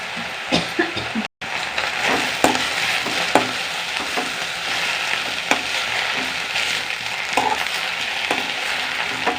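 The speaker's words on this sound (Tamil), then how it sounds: "நல்லா வெங்காயத்தோடு சேர்த்து நம்ம முருங்கைக்கீரையை நல்லா கிண்டி விட்டுக்கிடுவோம்" Drumstick leaves and onion are stir-fried in a pan for a poriyal, with a continuous loud sizzle and repeated spatula scrapes and taps, interrupted by one brief cut.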